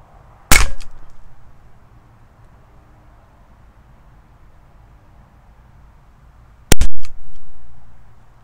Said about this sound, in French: Un pistolet à plomb.